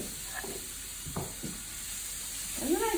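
Grated zucchini dropped into a hot frying pan, a steady soft sizzle and hiss with a few scraping stir sounds, close and moderately quiet.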